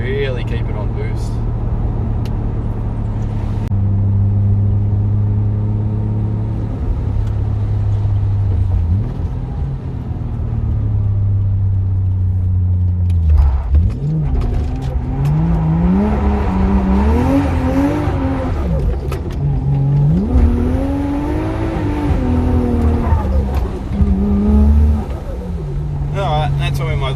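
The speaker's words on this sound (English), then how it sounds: "That's probably my biggest drift I've ever done in this car" A car with a 1JZ engine drifts on a wet road, its engine roaring and rising in pitch as it slides under boost, a loud continuous run with tire noise and changing revs.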